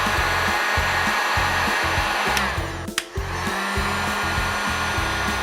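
A heat gun blows steadily on the end cap of a TempZone electric floor heating cable, a loud continuous whooshing hum with one brief dip near the middle.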